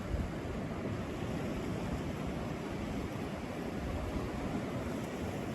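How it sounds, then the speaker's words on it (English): Waves wash in against the Salish Sea shore, a soft, continuous surf hiss with a low rumble, steady throughout and fairly faint. "hearing the sound of the waves just coming in up against the shore"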